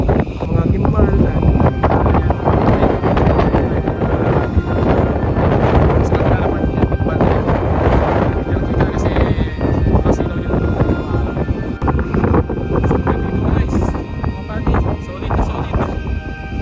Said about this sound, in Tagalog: kasi lakas ng hangin dito